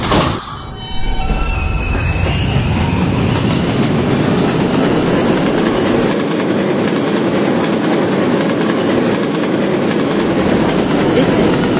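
A PTA subway ride aboard R160B Alstom B train car 8775 gives a loud, continuous interior roar with squealing wheels and rhythmic track clatter throughout. A brief quieter moment comes at the start before the train's noise builds and holds.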